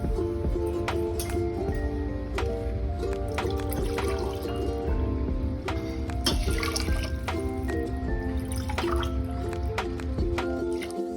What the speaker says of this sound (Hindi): इसमें हम 2 गिलास पानी डालेंगे।